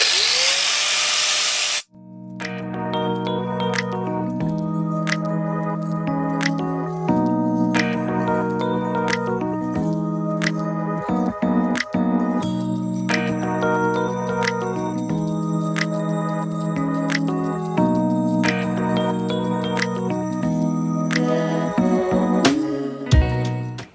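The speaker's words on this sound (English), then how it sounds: "So we're gonna grind this thing." A power tool grinds down the throttle tube of a Honda CRF110 dirt bike, giving a loud, steady whine that shifts pitch in stepped stages over about twenty seconds, close up and without talk.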